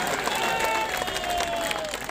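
A crowd at a BJP joining rally in Ramnagar claps to welcome MP Jyotirmay Singh, with steady loud applause and cheering voices mixed with a tonal hum from the sound system.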